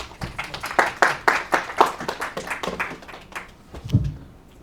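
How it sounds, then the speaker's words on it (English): Small audience at an Ayurveda Day event applauding to welcome a speaker, a handful of distinct, fairly close claps in an uneven rhythm that thin out and fade after a few seconds, ending with a soft thump. "With a round of applause."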